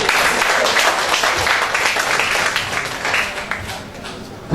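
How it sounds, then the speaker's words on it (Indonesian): An audience applauds at an event honouring Islamic boarding school students, a loud, sustained wash of clapping that slowly tapers off toward the end. "Beri aplaus untuk mereka semua."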